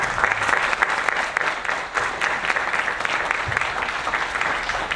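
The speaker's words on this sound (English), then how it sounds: "So let's give him a big round of applause." An audience at a technology innovation event breaks into dense, sustained applause, many hands clapping at an even, full level for the whole stretch with no one speaking over it.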